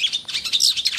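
A long-tailed shrike sings in a quick, bright run of high chirps and trills, loud and close, a brief burst with no other sounds.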